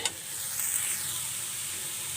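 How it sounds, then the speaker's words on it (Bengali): Cauliflower pieces frying in hot oil in a wok with salt, turmeric and chili powder, giving a steady close sizzle with a brief stirring scrape near the start and no talking. "ফুলকপিটা হালকা করে ভেজে নেব।"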